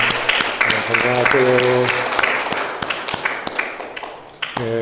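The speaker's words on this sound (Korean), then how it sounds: "우리 한 분 한 분 전할 때 우리 박수 드리시죠" Brisk clapping from a church congregation at a Korean Parents' Sunday worship service keeps going through the clip, with a voice talking over it near the microphone.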